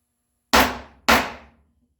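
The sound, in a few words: chisel cutting waste from walnut dado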